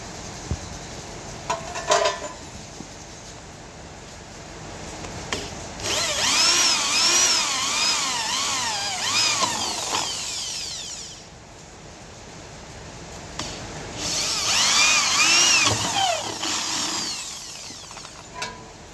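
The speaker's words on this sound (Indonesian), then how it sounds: "langsung kita bor ya." A power drill whirs in two long bursts through a vehicle bumper, its pitch rising and falling as it bites into material, with clicks and handling noise between runs.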